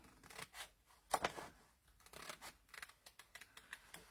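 Scissors snip through a paper file folder for a junk journal folio, with a series of close, quiet crisp cuts and crunches in an irregular rhythm.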